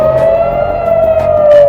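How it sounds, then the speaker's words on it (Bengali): An air raid siren wails in one long, loud, steady tone, sliding slightly downward as it sounds alone. "ভোরের নীরবতা ভেঙে সাইরেনের দীর্ঘ শব্দ।"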